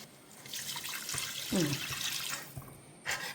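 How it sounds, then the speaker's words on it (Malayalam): A brief stream of water pours and gurgles into a pot of fish head curry with kudampuli, with a few small clinks and splashes, close and fairly clear. "വെള്ളം ഒഴിക്കണം"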